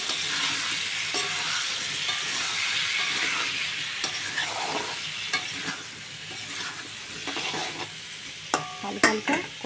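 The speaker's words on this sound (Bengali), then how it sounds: "এই যে কাটা রাখা বেগুন আলু দিয়ে দেবো, দিয়ে ভালো করে হালকা হালকা কষায় নেব।" Cut eggplant and potatoes sizzle and hiss as they are sautéed in a fried spice paste, a steady close frying sound with occasional clanks of a spatula stirring against the pan.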